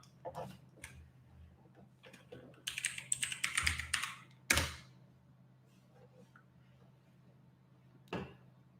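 Typing on a computer keyboard during PC setup: scattered key taps, a quick burst of rapid keystrokes, then a few isolated louder clicks with quiet gaps between, close to the mic.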